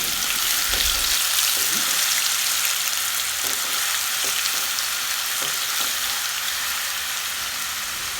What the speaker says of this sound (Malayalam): പിന്നെ വെളിച്ചെണ്ണ ഒഴിച്ച് കൊടുക്കാം. പിന്നെ ഇഞ്ചി, വെളുത്തുള്ളി, പച്ചമുളക്, പെരുംജീരകം, വേപ്പില ഇവയുടെ പേസ്റ്റ് ചേർത്ത് കൊടുക്കാം.